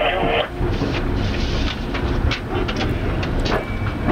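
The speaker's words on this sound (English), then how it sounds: "Here's the view from the operating cab on a Harrisburg train heading for the washing machine." An Amtrak train rolling along toward Harrisburg, heard from inside the operating cab: a loud, steady rumble and rattle of wheels on rail with a constant hiss and a few faint clicks, continuous throughout.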